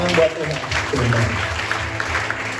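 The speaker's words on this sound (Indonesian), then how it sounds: "Can we clap for Jesus?" Congregation clapping together during a church worship service, a steady dense wash of applause running throughout, with a voice speaking over it at the start.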